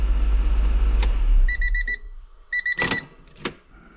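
A supercar engine being put away for winter is switched off; its low rumble dies away, followed by short repeated electronic beeps or chimes and a few clunks close by.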